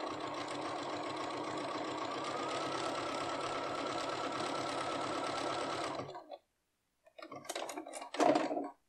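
A Bernina B570 Quilters Edition sewing machine runs steadily stitching a zigzag through fabric for about six seconds, then stops, followed by a few short clicks and bursts of handling noise.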